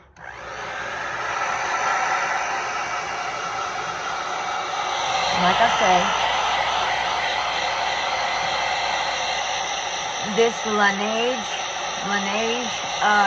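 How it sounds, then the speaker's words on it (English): A hair dryer blows in a steady, close whoosh the whole time, with someone talking over it toward the end. "Let me take my hair dryer a little bit."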